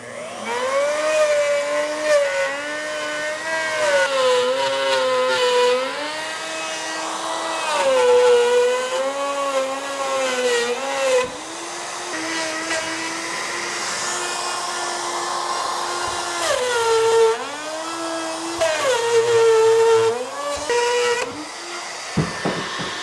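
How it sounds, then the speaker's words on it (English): Handheld router cutting window openings in wood panels for a chicken coop, a loud sustained whine that rises and falls in pitch as the bit loads and frees, running nearly continuously with brief dips. "This time, I want to try using a router to see how that works."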